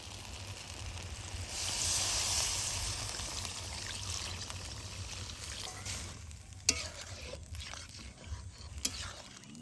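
Water goes into a pan of mutton chusta frying on a stove, raising a louder hiss over a steady close sizzle, followed by a few light clinks and stirring sounds.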